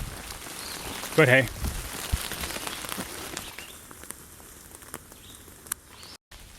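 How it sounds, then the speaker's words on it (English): Steady rain falls on the Appalachian Trail, a continuous even hiss of drops on leaves and ground. A brief spoken phrase cuts in near the start, and the rain then settles into a softer, uniform patter. "It's pouring down rain again."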